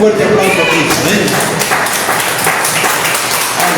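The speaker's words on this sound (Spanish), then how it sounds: "Un fuerte aplauso a Cristo" Church congregation clapping during a sermon, a loud continuous patter of hands mixed with voices calling out and some tonal sound, sustained throughout.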